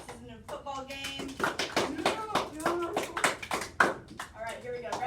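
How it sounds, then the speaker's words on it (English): A group claps a steady 4/4 beat in choir style, sharp hand claps repeating rhythmically in a classroom lesson while an instructor's voice talks over them. "Get your claps up. We're doing some choir claps."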